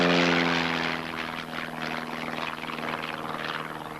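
A Jaguar jet aircraft in an intentional spin gives a steady, loud engine roar with a buzzing tonal drone that wavers and pulses slightly as it continues, with no voices.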